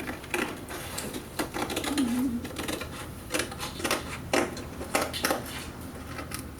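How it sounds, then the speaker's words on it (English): Scissors snip and trim along the edge of a foam board cowling for an FT DR1 Triplane model, giving a run of close, sharp cutting clicks and crunches in a quiet workshop. "Just take a pair of scissors, start from the one edge."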